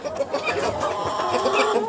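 A young village rooster clucks among ducks and other poultry in winter. The short, close, throaty clucks run over a busy farmyard background.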